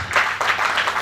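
A crowd claps at the investiture of the 12th chairman of the ICSAN Lagos State Chapter. The applause is loud, steady and close, rising and falling in a rhythmic swell.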